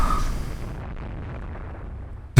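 Battleship guns fire across their own decks in the naval game Rule the Waves 2, heard as a rolling, booming rumble that fades gradually before a sharp, loud blast hits at the end.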